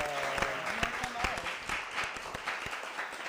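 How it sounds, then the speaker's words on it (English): Audience applause for drag queens on a late-night college show, steady clapping with scattered cheers, voices and talk mixed in around it. "let's give a round of applause for these queens"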